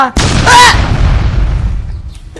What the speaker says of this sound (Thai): ไอ้นี่เหยียบระเบิดไปแล้ว